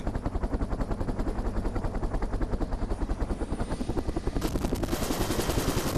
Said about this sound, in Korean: 다시 강화를 위해 헬기에 탑승하는 대원들.